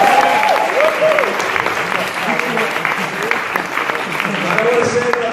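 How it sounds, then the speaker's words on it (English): Wedding guests applaud the bride Fiona during a best man's speech, a steady ripple of clapping from a room full of people, sustained at even strength throughout with some talk beneath. "offering a ripple of applause for Fiona today"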